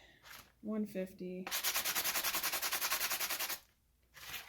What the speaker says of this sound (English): So the next thing I do is sand this open edge. I start with a bigger sandpaper.